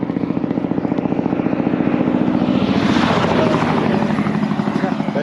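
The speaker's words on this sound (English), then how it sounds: "That truck sounds like a helicopter." A truck engine thumps with a fast, rhythmic chopping drone that resembles a helicopter, loud and steady throughout.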